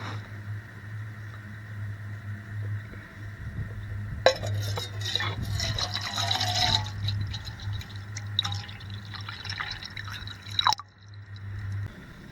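Water runs into a small camping pot for a backpacking stove, a splashing, trickling pour that lasts several seconds and then stops, heard close over a low steady hum.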